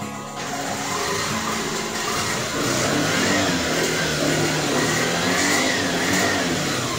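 A Yamaha motorcycle with a dead battery, unused for many days, kick-started and revved: a steady, loud mid-pitched engine roar that holds and swells over several seconds, with no talking.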